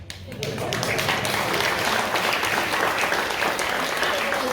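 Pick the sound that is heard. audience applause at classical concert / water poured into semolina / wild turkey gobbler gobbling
audience applause at classical concert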